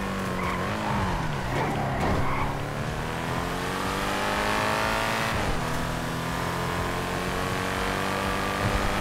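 Car engine in a video game revving with shifting pitch while tyres screech and skid, two surges of squealing rising and falling across a steady mechanical drone, fairly quiet in the mix.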